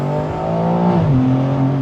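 A BMW M4 Competition Convertible engine burbles steadily and close, its deep droning note dipping in pitch partway through, with no talking.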